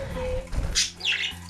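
Pet budgies give a couple of short bright chirps close by, over a low background hum.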